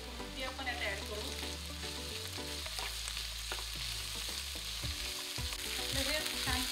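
Finely chopped carrots and capsicum frying for Manchurian, giving a dense continuous sizzle close up, with scattered scraping taps from stirring.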